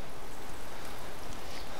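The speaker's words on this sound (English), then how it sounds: "Raining now." Steady rain in the DayZ video game hisses evenly and softly as a continuous wash of noise, with no voices.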